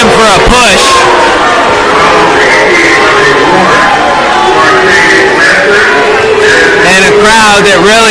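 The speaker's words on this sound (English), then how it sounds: "And that brings the boos from the crowd." A basketball arena crowd breaks into loud, sustained booing after a foul call, with bellows and shouts mixed in while a commentator keeps talking over the noise.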